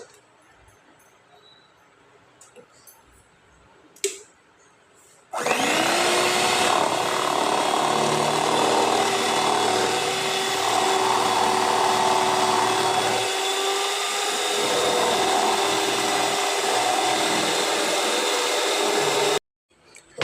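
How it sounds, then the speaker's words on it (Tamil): An electric hand beater whirs steadily as it mixes cake batter in a bowl, starting abruptly after quiet handling sounds and running loud and continuous for about fourteen seconds before cutting off. "இப்போ நம்ம ஹேண்ட் பீட்டர் வச்சு நல்லா இதை ஃபுல்லாக மிக்ஸ் பண்ணி எடுத்துருவோம்"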